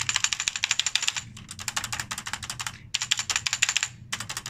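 Typing on a Nissho Topre keyboard, where the space bar gives a high, clacky stabilized press among a steady run of close, quick keystrokes with a short pause, no voices.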